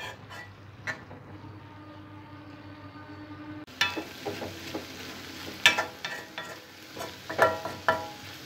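Spinach for a spinach and chana dal curry sizzling in a pan, a soft quiet hiss at first, then louder frying with repeated clicks and scrapes of stirring.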